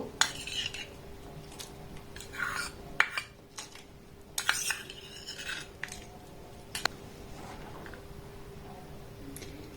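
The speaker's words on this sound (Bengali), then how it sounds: "এবার দেখুন যে সাবুদানাটাকে ভিজিয়ে দিয়েছিলাম সেটা এই পর্যায়ে আমি দিয়ে দেব।" Soaked sabudana spooned into a pot of boiling milk, heard as scattered light metallic clinks and taps of a spoon on the pot's rim, close but fairly soft, with brief gaps between them.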